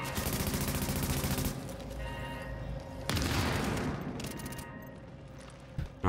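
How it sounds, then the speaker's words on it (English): Heavy gunfire rattles in dense automatic bursts during a co-op firefight in Tom Clancy's The Division at the WarrenGate Power Plant, with a sharp blast near the middle that fits a grenade going off, followed by more sustained shooting. "Grenade out."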